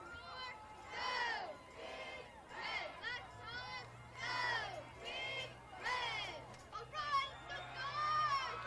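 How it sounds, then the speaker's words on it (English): A big crowd at an evening high school football game, North High's home side, roars and shouts in repeated swelling waves, with an announcer talking over the noise. "Big crowd here on the North High side this evening."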